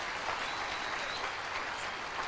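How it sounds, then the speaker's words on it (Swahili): An audience at a presidential press briefing applauds the ministry staff, a dense, sustained round of clapping from a crowd that holds evenly throughout. "Tuwapigie makofi tafadhali."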